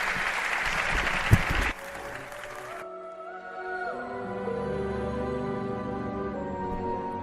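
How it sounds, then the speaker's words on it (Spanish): Theatre audience applause rises loud and dense for under two seconds, then cuts off abruptly as musical tones take over. "Un aplauso para él y enseguida seguimos."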